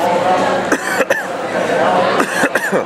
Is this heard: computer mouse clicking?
no